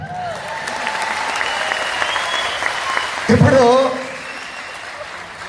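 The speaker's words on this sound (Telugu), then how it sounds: "కరెక్ట్ అయితే క్లాప్స్ కొట్టాలి" An audience claps in a brief burst during a speech to a crowd, a short loud patter over a steady background murmur, with someone talking before and after it.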